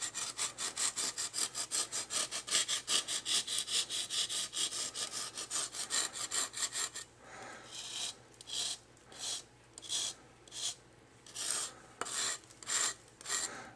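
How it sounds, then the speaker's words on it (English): Rasp filing a model railway tunnel wall, rough side first: fast steady rasping strokes for about seven seconds, then slower, separated strokes, close and clear with no talk. "Then I take my rasp on the rough side first."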